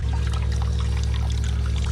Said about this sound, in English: I changed that float there as well, and then I went and turned the water back on.